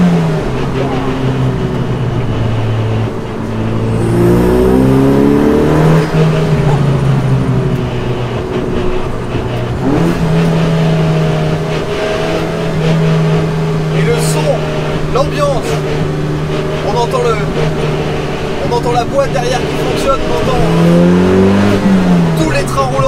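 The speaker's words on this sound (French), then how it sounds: "le turbo on l'entend, ça y a pas de problème" A Dallara Stradale sports car's turbocharged engine accelerates, heard as a loud, steady drone whose pitch climbs and dips through the gear changes.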